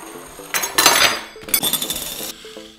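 Dishes and pots clink and clatter as someone rummages for a pot, with two bursts of rattling crockery and metal separated by a brief lull.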